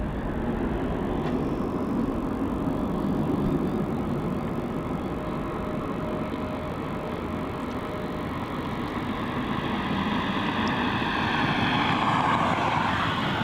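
A plane takes off at Melbourne Airport, its engines a loud, steady roar that fills the whole stretch and swells slightly near the end, with no talk over it.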